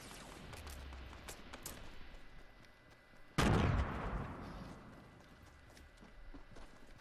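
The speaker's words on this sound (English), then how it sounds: "Fucking hell, that minigun." A minigun fires in Fortnite: one short, loud burst of gunfire stands out among scattered fainter shots in a fairly quiet scene.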